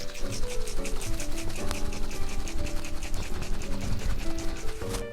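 A cocktail shaker gets a vigorous dry shake for a sour cocktail, with no ice inside. The contents slosh and rattle in a fast, steady rhythm, close and fairly loud, with no talking over it.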